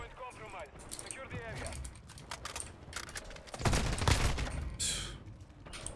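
Rapid automatic fire from a Kastov 762 rifle in Call of Duty, crackling bursts in quick succession with a loud cluster near the middle, mixed with game effects and a player talking over it.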